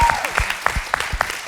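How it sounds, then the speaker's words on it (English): A round of applause from the audience at an evening forum on gender-neutral fashion greets moderator Catherine Schuller. It is loud and close, with distinct claps mixed into the steady patter and a few scattered vocal sounds. "yes, a round of applause"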